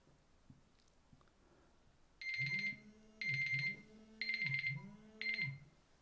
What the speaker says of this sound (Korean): 요것은 그겁니다. 알람입니다